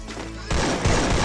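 Gunfire in a shooter video game, a short loud burst of rapid shots that gets heavier partway through.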